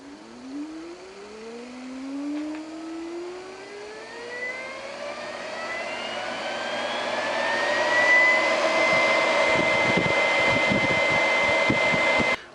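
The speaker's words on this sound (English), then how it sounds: "let's see how it spins up on the motor here" An antique Logan lathe driven by a swapped-in treadmill motor spins up, its whine climbing steadily in pitch and growing louder, with rattling mechanical noise setting in near the end.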